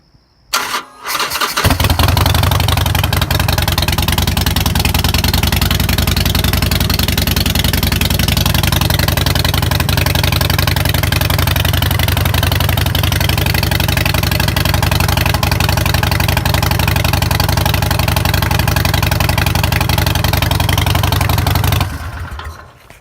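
An untuned 2013 Harley-Davidson Sportster XL1200C with Vance and Hines Short Shots exhaust and a high-flow intake fires up and idles with a loud, deep, lumpy rumble. The idle holds close and steady for about twenty seconds, then cuts off.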